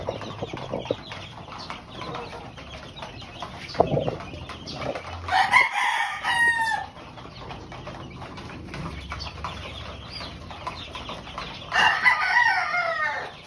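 Chickens on a poultry farm cluck and chirp amid background clatter, with a couple of loud bursts of crowing-like calls partway through and near the end.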